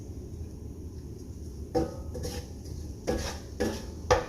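Fried rice with vegetables is served onto a plate with metal utensils, making several close clinks and scrapes against the dish over a quiet background, with no talking.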